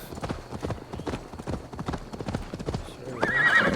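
Horse hooves clip-clop in a steady quick rhythm throughout, ridden in the video game Assassin's Creed Valhalla, with a brief whinny-like sound and rising game audio near the end.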